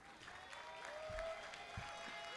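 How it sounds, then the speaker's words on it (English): Applause at a Bronx Community College commencement ceremony for graduates' families and supporters: steady, moderately loud clapping from a large crowd filling the space, with a few low thumps. "let's give them a well-deserved round of applause"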